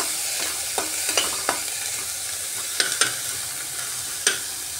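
Onion, green chilli and garlic sizzle steadily in hot oil in a pan, a constant close frying hiss broken by a few sharp spatula taps and scrapes, with no voices.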